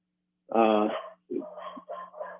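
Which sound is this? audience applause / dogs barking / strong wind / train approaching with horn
dogs barking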